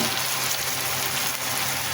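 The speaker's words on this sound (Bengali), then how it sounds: "মাছের মাথাটা সুন্দর করে ভেজে নেব। তেল গেজা গেজা হয়ে" Taki fish head frying in hot oil, giving a steady, dense sizzle that crackles evenly and fills the whole moment without pause.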